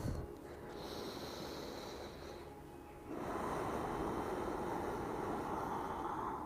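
Deep breathing during a yoga class: a soft, steady rush of breath, airy at first, then fuller and stronger after a brief lull, continuous and close with no talk.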